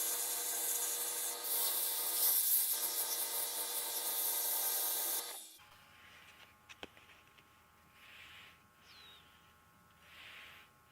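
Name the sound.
sanding mystery wood with sandpaper on a lathe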